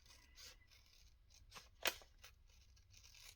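Small scissors snip through junk mail paper, a few quiet crisp cuts with one sharper, louder snip near the middle over faint paper rustling and a soft background hum.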